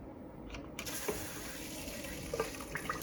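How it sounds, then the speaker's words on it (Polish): Steady rushing water runs into a Bosch dishwasher continuously with a faint hiss, a few small clicks and knocks over the flow, fairly close. "Słuchajcie, woda leci."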